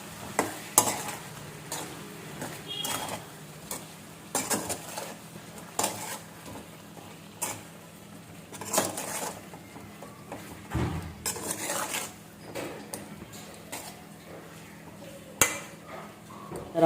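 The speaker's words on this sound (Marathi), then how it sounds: "छान मिक्स करून घेऊ आपण" Spices such as turmeric, coriander powder and garam masala being stirred in a cooking pan, a soft sizzle under repeated metallic scrapes and knocks of a spoon against the pan, close and without talk.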